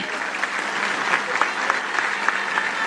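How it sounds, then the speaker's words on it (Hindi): Applause from a crowd at a Dalit Panther golden jubilee rally in Nanded, a dense patter of many clapping hands, steady and moderately loud. "आप भी उनका स्वागत तालियों से कीजिए।"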